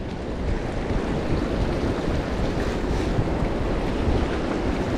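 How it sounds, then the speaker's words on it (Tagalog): Steady roar of sea waves and strong wind at a river mouth, broadband and continuous with wind buffeting the microphone, no voices. "ang hangin dito sa dagat saka yung alon ganyan lagi yan"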